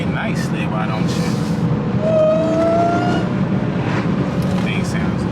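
A Dodge Hellcat engine rumbles and revs up briefly, loud and near, with someone speaking over the engine noise.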